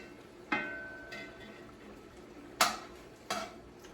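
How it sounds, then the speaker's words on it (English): A spoon stirring a cup of flour into shrimp and corn bisque in a pot to make a roux, heard as a few faint scrapes and clinks against the pan, spaced apart over quiet background. "I have a cup of flour that I'm going to sprinkle onto this and just kind of stir it in"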